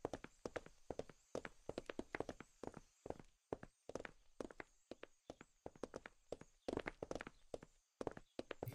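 Footsteps in the co-op zombie game DeadPoly land as loud, sharp thuds in a quick, uneven walking rhythm, close and prominent with near silence between steps.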